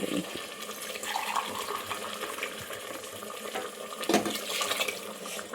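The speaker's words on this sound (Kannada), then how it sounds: "4 ಲೋಟ ನೀರು ಹಾಕ್ಕೋಬೇಕು" Mutton cooking broth splashes steadily from a cup into a pot of basmati rice for mutton biryani, a continuous near pouring rush with a brief louder gush near the end.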